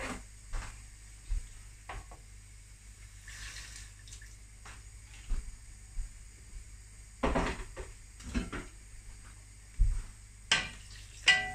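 Water is poured into a frying paste of ground shallots, garlic and chili with lemongrass and lime leaves, setting off bursts of loud sizzling and spatter between clanks of a spoon stirring the pan.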